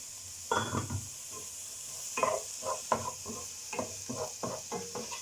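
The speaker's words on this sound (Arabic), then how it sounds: "هنا كطيح لينا البصله" Onion cooking in oil and butter in a pan, giving a soft continuous sizzle with intermittent bursts of stirring and scraping from a utensil, close and moderately loud, with no talking.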